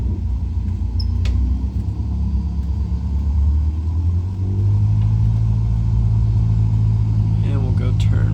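A Cessna 172 engine in a flight simulator game throttles up for taxiing, a loud, low engine drone that rises in pitch and steadies as power increases, with no talk.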